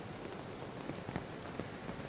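Steady rain patters softly across surfaces in Honkai Star Rail, a quiet continuous hiss with scattered drop ticks and no voices.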